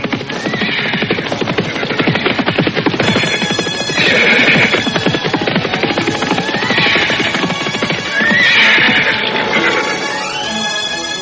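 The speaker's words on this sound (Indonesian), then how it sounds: "kau tahu siapa penunggang kuda yang menuju kemari itu?" A horse with a rider draws near, whinnying and neighing several times over continuous clip-clopping hoofbeats, loud and close, set in a busy, layered scene.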